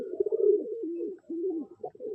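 Pigeons in a loft with young birds give a soft, close rolling coo, one continuous low bubbling call with a brief pause before it resumes.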